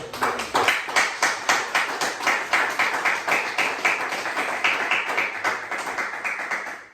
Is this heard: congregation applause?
yes